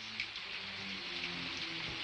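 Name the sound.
rain falling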